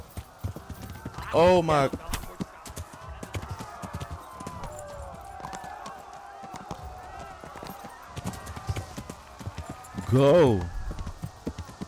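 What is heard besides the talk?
horse galloping in a video game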